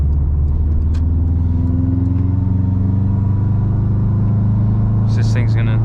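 Subaru WRX STI engine with new suspension heard from inside while cornering, a loud steady low rumble of engine and exhaust with a brief burble near the end, as someone talks over it.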